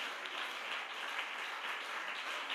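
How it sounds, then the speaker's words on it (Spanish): Congregation applauding at a church service, a dense continuous wash of many hands clapping together, steady and fairly loud throughout, with no voices over it. "Dale fuerte ese aplauso al Señor Jesucristo en esta preciosa mañana"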